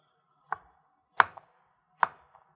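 Knife cutting zucchini into long julienne strips on a board, three crisp separate chops spaced under a second apart, close and clear with quiet gaps between.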